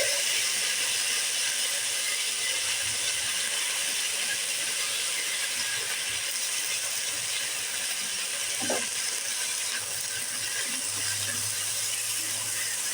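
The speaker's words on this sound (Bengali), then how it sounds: "আমি সজনে ডাঁটা দিয়ে দিচ্ছি।" Pieces of drumstick (sajne data) frying lightly in oil among mixed vegetables, a continuous close sizzling hiss with a brief clink partway through and no talking.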